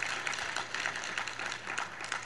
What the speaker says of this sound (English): We usually don't get this much applause.